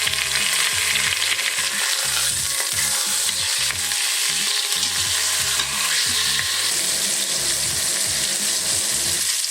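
Pork shoulder steaks browning in a hot pan give a loud, steady sizzle with crackling spatter, lasting the whole stretch with no talking.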